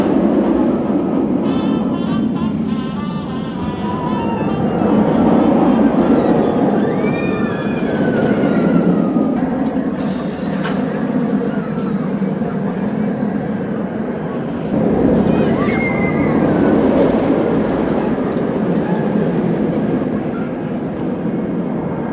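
Roller coaster run on Flight Deck at California's Great America, a loud steady rumble of wheels and track with rushing wind, whooshes and faint screams rising and falling across the ride.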